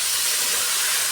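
Bottle gourd stems go into hot oil with a brief, close, continuous hiss of sizzling, steady throughout without any speech.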